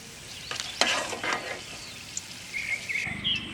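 Jujube fruits frying in a pan for chutney, giving soft stirring scrapes and a light sizzle, with brief chirpy tones near the end.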